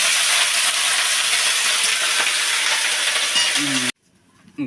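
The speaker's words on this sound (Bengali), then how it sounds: "ঘাটি কষাতে দিয়েছে" A spice paste fries loudly in a pan, a dense steady sizzle that cuts off abruptly near the end, leaving near silence with a faint clatter.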